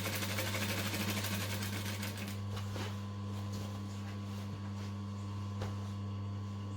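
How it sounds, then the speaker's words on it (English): Home sewing machine stitching the seam of a circle skirt, a steady close whirring hum with a rapid needle rhythm that runs the whole time and eases slightly midway, with no talking. "go over a few of the previous stitches to help it get it back in there"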